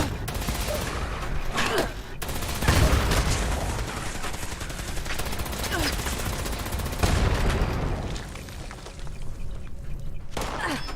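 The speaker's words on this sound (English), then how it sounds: "Furious Gatling laser does good work against these guys." A furious Gatling laser fires in the Fallout 76 video game, loud rapid continuous bursts with brief pauses, mixed with combat effects and faint game voices underneath.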